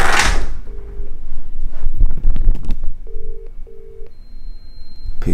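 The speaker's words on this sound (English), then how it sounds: "Gonna phone Cap." A telephone on a call rings out in short repeated tones, three evenly spaced bursts, over heavy rustling and handling noise nearby.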